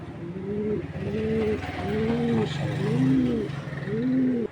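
Racing pigeons coo in a steady series of rounded, repeated calls, close and loud, with several birds overlapping continuously.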